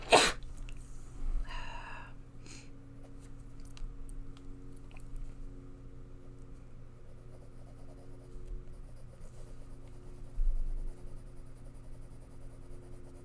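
A single sharp, quiet sneeze bursts out at the very start, followed by faint scratching and soft rustles in a quiet room.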